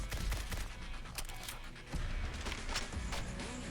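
M71 Manhunter ranger rifle shots in Fallout 4, a scattered series of sharp cracks inside a busy, rumbling game battle, moderately loud with no talking.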